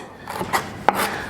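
Knife cutting bell pepper into slices on a cutting board: a few soft, brief chops and slicing strokes spaced unevenly, close and quiet with a faint background hiss.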